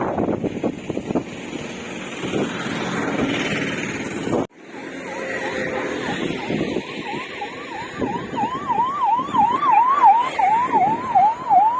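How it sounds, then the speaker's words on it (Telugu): An ambulance siren passes along a road near the Mamidikuduru market in Konaseema, Andhra Pradesh. Its wailing sweep grows louder and nearer over traffic noise, with passing vehicles audible beneath. "అంబులెన్స్ అయితే వెళ్తుంది"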